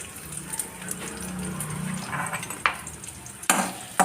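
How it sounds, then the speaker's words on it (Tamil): Onions sautéing in hot oil in a kadai for Kerala-style chicken pathiri, giving a steady close sizzle with soft stirring scrapes and a few sharp utensil knocks near the end, no talking. "வெங்காயத்தை நல்லா வதக்கிடுவோம் நல்லா வதங்கிடுவோம்"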